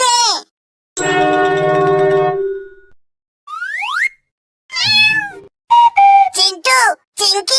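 A small cat meows several times up close in short, rising and falling calls, with a sustained ringing, bell-like tone early on and silent gaps between sounds.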